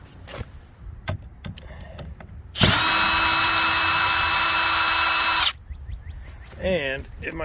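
A power drill runs loud and steady for about three seconds, close up, while hardware is taken off an Old Town Sportsman Bigwater 132 PDL boat, with faint handling noises before and after.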